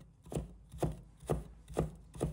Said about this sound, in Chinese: 1小块生姜，同样拍几下，把它拍碎，再切成末。